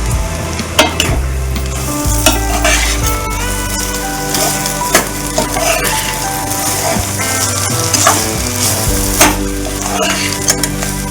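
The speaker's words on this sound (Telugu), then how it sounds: "కరివేపాకు కొత్తిమీర వేసి కలుపుకోండి." Curry leaves and coriander are stirred into chana dal and coconut fry in a sizzling pan, with a steady fry hiss and repeated clinks of a spoon against the pan.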